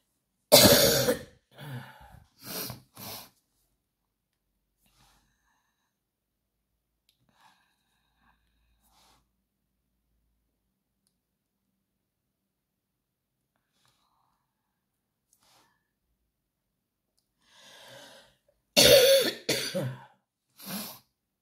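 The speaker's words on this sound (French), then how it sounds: "J'en ai marre de cette toux là." A person coughs persistently, with a burst of several harsh coughs, then a long quiet stretch, then another loud cluster of coughs near the end, close to the listener.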